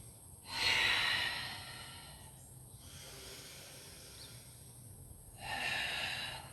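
Two deep, audible breaths during an arm-toning workout with weights, one near the start and another near the end, close and breathy with quiet background between.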